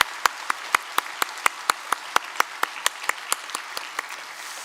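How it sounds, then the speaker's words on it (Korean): Steady, evenly spaced claps ring out alone during a Korean church anniversary Sunday service, each sharp hand strike separate and moderately close, sounding like a small number of people clapping in rhythm rather than a full crowd. "우리 귀한 특순 가정과 또 우리 찬양대 위에 다시 한번 격려의 박수 할까요?"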